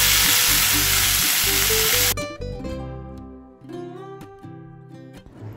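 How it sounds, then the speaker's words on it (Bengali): Boiled green jackfruit hits hot mustard oil in a kadai with a loud, close, roaring sizzle. After about two seconds the sizzle cuts off and tonal music takes over. "এঁচোড়কে এবার ভালো করে ভেজে নেব।"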